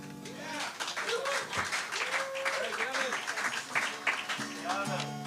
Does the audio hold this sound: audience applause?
yes